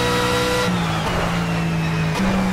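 A BMW Z4 GT3 racing engine in the Project CARS game, driven at Bathurst's Mount Panorama, screams at high revs. It shifts gear twice with brief pitch drops, loud and continuous, with no talking.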